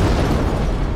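Loud explosion blast in the video game Garry's Mod, a dense, sustained low boom filling the whole second with no pause.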